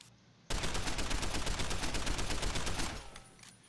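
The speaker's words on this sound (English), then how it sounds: "Mr. Jensen's gone insane. He's shooting up his place right now." Rapid automatic gunfire from the video game Deus Ex: Human Revolution. A loud, sustained burst of evenly spaced shots bursts in suddenly, runs for about two and a half seconds, then tails off into quiet.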